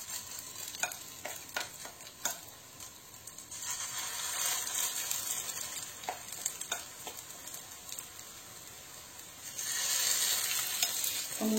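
Steady hiss and crackle of a homemade beef burger patty sizzling in a hot frying pan, with a few light utensil taps, swelling louder near the end.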